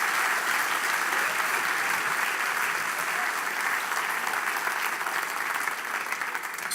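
Loud, continuous applause from a large audience thanking Ben, a thick, steady roar of clapping hands that stays level throughout and eases off slightly near the end.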